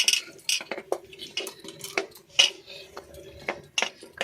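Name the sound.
knol-khol pieces being added into a cooking pot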